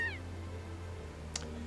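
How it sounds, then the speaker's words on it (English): A cat in the game Trails of Cold Steel, voiced by Kira Buckland, gives one short meow at the very start over a quiet low hum, followed by a faint brief click. "Kira Buckland meowing at us."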